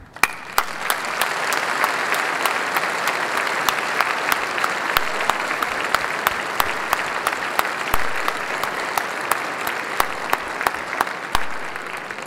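A large audience at a New York remembrance gathering applauds standing survivors: dense, sustained clapping for about twelve seconds, with sharp individual claps standing out above the steady roar.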